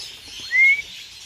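A single clear, high whistle held for a moment over faint background hiss.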